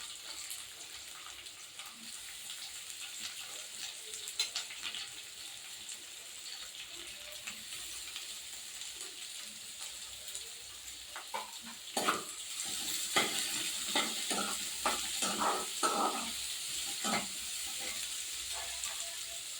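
Chillies and onions sautéed in a pan for Chettinad kara kuzhi paniyaram. A faint, low sizzle builds into a busier crackle with scattered stirring clicks in the second half.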